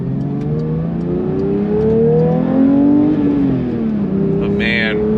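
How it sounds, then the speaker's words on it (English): A 992 Porsche 911 GT3 Touring with its 4-liter flat-six engine drives slowly, a close, steady engine drone that rises gently in pitch and then settles, heard from inside the car. "even when you're just driving slow in this thing, it feels so badass because of that GT3 spec 4-liter flat 6."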